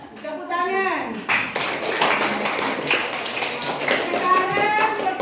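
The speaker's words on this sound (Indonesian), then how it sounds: "Tepuk tangan." A voice rings out, then a burst of clapping from a classroom group follows, steady and close, with voices mixed in.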